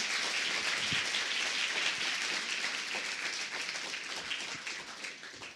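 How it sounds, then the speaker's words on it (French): An audience at a master class on the Valérie Bacot case applauds Nathalie Tomasini, a steady, dense patter of many hands clapping that sounds much like rain and fades slightly toward the end, with no voices. "On peut applaudir Nathalie Tomasini,"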